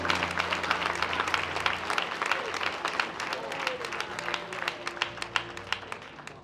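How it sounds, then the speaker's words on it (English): A church congregation bursts into a steady round of hand claps of praise, dense crackling applause that carries on throughout with a faint hum of voices beneath. "Everybody give God a hand clap of praise."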